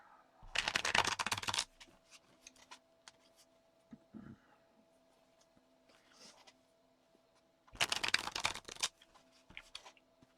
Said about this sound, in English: we're going to need a shuffle of the cards